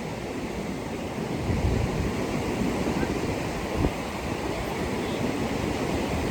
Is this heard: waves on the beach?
yes